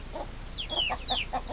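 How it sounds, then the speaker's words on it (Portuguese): A chicken clucking close by in a short series of nasal, rising-then-falling calls, about five in quick succession, over a steady outdoor hum. "Que galinha."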